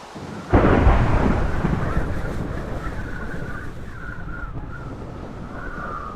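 Rain and thunder in a video game: a sudden loud thunderclap bursts in near the start, then a steady, heavy rain hiss continues alone with faint rumbles, with no voices.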